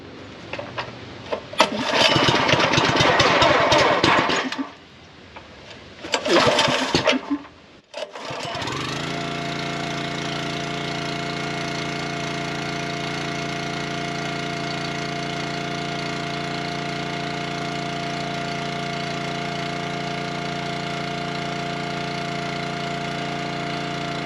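A Champion log splitter's small gas engine, freshly uncrated and assembled, sputters through pull-start attempts, then catches and settles into a loud, steady, even idle that runs without a break.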